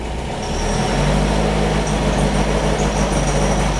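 A Beck 550 Spyder replica engine, said to falter at mid-throttle, runs close by with a continuous low rumble and a slight swell in level.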